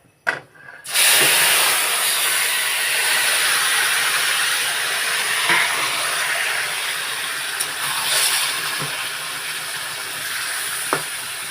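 Spices fry in a hot pan before fish and taro go in, making a loud, steady, broad hiss that starts abruptly and holds for about ten seconds, with a few faint clinks and no talking.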